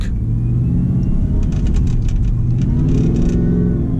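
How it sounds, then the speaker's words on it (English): A 700 hp Shelby F150 Tonka Edition truck on giant 325 tires rumbles loudly from inside the cab, with a heavy engine drone and brief rising rev as the tires spin on a narrow road. "we just spun these giant 325 tires"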